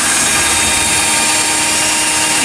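A power drill with its torque turned up, boring straight through two stacked wooden boards in a cheap DIY build, gives a steady, loud, continuous whine and grind that holds for the whole stretch without any talk.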